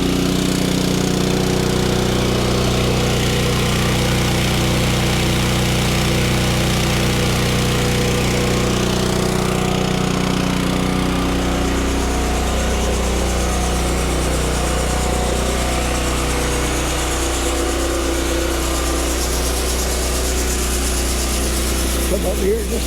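A farm planter's seed tender motor runs loud and steady while seed is filled, a constant close engine drone with a low rumble that shifts slightly partway through.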